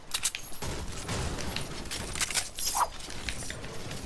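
Video game gunfire: rapid bursts and scattered shots from several directions, fairly close and continuous, with no talking over it.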